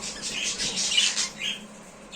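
A pet budgerigar squawks in a few harsh, shrill bursts, fairly close, over a quiet low background hum.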